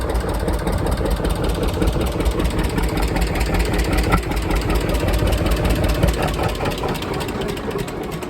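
An engine run through a hand clutch idles loud and close after startup, a steady, thrumming chug with a rapid, even beat that holds without any talk.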